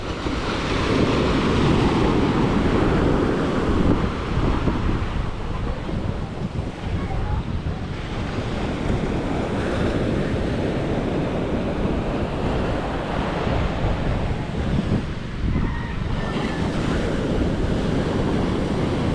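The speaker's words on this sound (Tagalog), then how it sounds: "Lalaki ng talbog ng alon." Big ocean waves slapping and pounding against a boat at sea, a loud continuous rush of surf and wind buffeting, with voices talking faintly at times.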